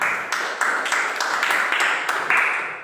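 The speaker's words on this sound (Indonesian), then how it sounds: "Bagus, tepuk tangan anak-anak." Children clap their hands together in a classroom, a burst of sharp, fairly loud claps with a few stronger accented beats standing out over nearly three seconds.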